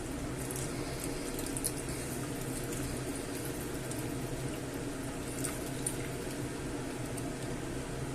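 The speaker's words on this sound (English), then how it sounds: "I will add the water." Water is poured into a cooking pot of rice and clams, a soft continuous splashing and bubbling wash that stays faint and even throughout, with no talking.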